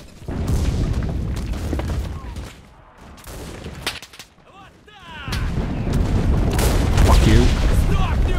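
Machine guns rattle in bursts during a quarry assault in the shooter Enlisted, loud booms and fire dropping out briefly mid-way before resuming heavily, with a man cursing over it.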